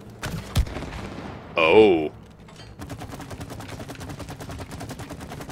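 Shooting in the video game It Takes Two comes as a steady rapid string of sharp shots in the second half, after a few earlier thumps and a brief squeaky effect, with a player speaking briefly.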